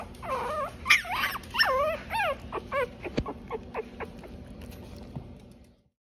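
Puppies whimper and cry in high, wavering squeals close by, gradually tapering off into quieter whines and rustling.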